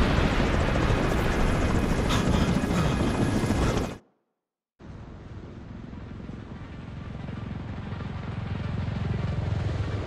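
An extraction helicopter in The Division 2 drones loud and steady with rotor buzz, cuts out abruptly for about a second, then returns as a somewhat softer, continuous roar that slowly swells.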